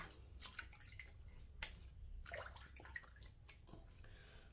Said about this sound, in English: So let's rinse this off the old melon here.